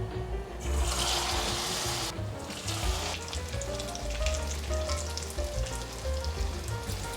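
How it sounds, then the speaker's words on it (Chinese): Flour-coated pieces of food deep-frying in a pot of hot oil, giving a steady, loud, close bubbling sizzle that runs unbroken throughout. "可以放进锅里面炸了"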